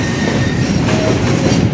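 A KRL CommuterLine electric commuter train rolls past at Tanjung Priok station, a steady, close rumble of wheels and car noise with faint clatter, continuous for the whole short stretch.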